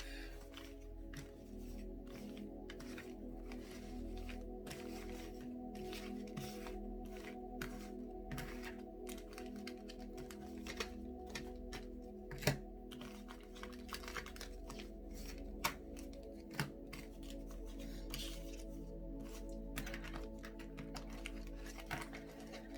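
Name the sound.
shuffling tarot cards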